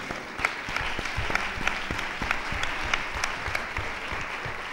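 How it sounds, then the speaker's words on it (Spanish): An audience at a talk on active ageing gives a round of applause, fairly soft and moderately distant clapping with some individual claps standing out, steady for several seconds with no voices over it. "Un aplauso para la señora"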